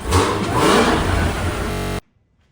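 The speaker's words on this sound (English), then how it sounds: "It's there, you hear the supercharger whine, but it's not as loud" Supercharged engine of a Cadillac CT5-V Blackwing fitted with a K&N air filter and intake, revving loudly with a rising whine and intake roar, then cutting off abruptly into silence.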